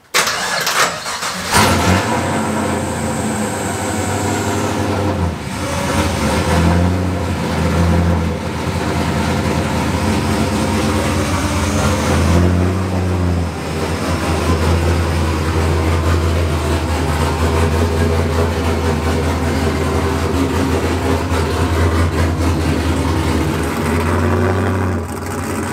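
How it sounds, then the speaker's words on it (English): A car engine cranks and catches on a cold start, then settles into a loud, steady idle with slight revs, a car being readied for drifting, no voices over it. "So I try as quickly as possible to start the car"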